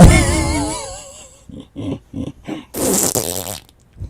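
Fart sound, a rapid string of short, loud blasts after an opening warbling tone, ending in a longer raspy burst, close and alone.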